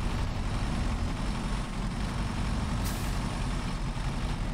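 A heavy truck pulls away in SnowRunner on a snowy Alaska map, its engine a steady close low rumble that runs unbroken throughout, with a brief airy hiss near the end.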